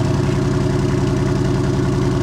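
Deep, steady idle rumble from a Jeep Wrangler Rubicon 392 V8 with exhaust in its loudest mode, a throbbing low pulse held close and constant.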